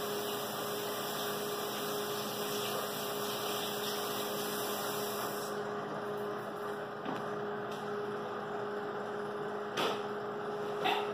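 Kitchen microwave oven running while a recipe is prepared, a steady electrical hum with a faint mains tone and high whine, ending partway when a quieter room tone takes over, no voices.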